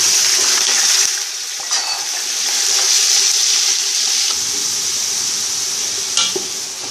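Chicken pieces fry in hot oil over a high flame for biryani, a loud, close, continuous sizzle with occasional stirring scrapes and small bursts.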